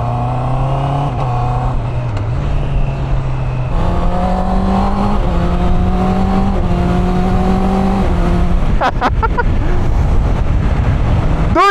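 A 2024 Honda CB650R E-Clutch inline-four motorcycle pulls away and climbs through several gears, its engine note stepping up in pitch with each shift, loud and close with wind rush, followed by a short burst of higher revs near the end.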